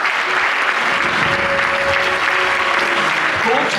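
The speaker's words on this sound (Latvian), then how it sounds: "Ar ovācijām sagaidām mūžs basketbolā." Latvian audience giving a sustained ovation at a basketball career honors ceremony, dense steady clapping filling the hall, loud and continuous with no pauses.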